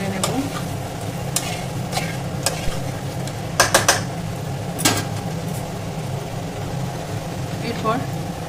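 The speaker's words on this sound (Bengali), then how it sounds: "এই সময় আমি আলুগুলো দিয়ে দেবো, ভালোভাবে এর সাথে নেড়ে নেব।" Potatoes stirred into frying curry masala for Kolkata-style aloo dum, a steady sizzle under repeated scraping stirs with a few sharper clanks against the pan.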